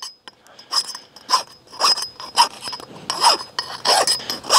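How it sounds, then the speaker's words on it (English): A round file removing burrs from the inside of a cut larger-diameter tractor PTO shaft, about nine rhythmic rasping strokes, close and fairly loud with short pauses between them. "A round file also works very well for this."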